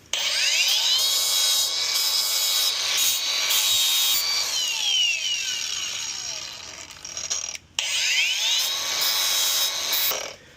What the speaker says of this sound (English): we've got to get this paint off. Super simple, just a grinding wheel.